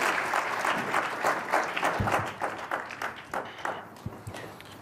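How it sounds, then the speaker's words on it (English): An audience breaks into warm applause after a special address by the UN Secretary-General at the Davos forum, loud and sustained clapping that gradually thins and fades. "I think you also heard a warm applause that your call to action was well received"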